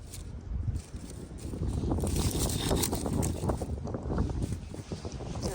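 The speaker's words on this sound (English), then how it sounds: "Oh, it's so windy out here." Strong, steady wind roaring and buffeting the microphone for several seconds in an outdoor container vegetable garden, a dense low rumble with gusty surges and no voices.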